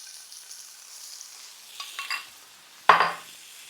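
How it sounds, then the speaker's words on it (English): Butter hits a hot pan beside seared cod, giving a soft background sizzle. A sharp, louder burst of frying comes near the end and then fades back. "you're gonna hit this side with a little butter"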